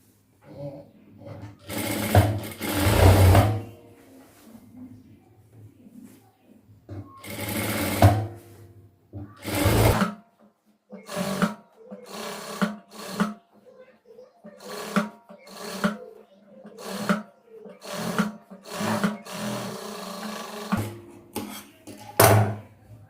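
A sewing machine stitches a chudidhar sleeve during a tailoring lesson, running in a string of short and longer bursts with brief pauses between them, close and fairly loud, with a voice talking in the gaps.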